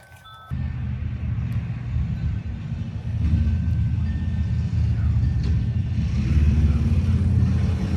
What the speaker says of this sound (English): Got a motorcycle going by.